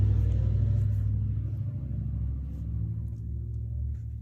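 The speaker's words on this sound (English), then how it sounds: "as a really loud, noisy car goes by" A loud, noisy car or truck rumbles past close by, a heavy low-end roar that is strongest at first and then eases into a steady drone without fading out completely.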